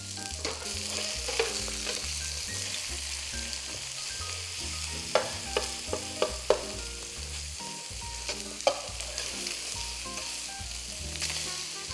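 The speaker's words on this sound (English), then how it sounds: "we're gonna flip these burgers over and we're gonna cook them on the other side." Burgers for Salisbury steak sizzle steadily in a hot pan, the frying hiss continuous while a spatula scrapes and taps as the patties are flipped.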